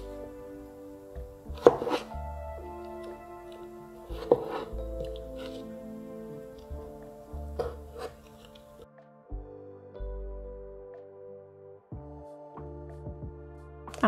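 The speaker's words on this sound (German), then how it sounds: "Die Gurken werden in Streifen geschnitten." A knife cuts cucumbers into strips for a beef roulade filling, giving sparse, crisp taps on a board every couple of seconds over a steady, soft tonal background.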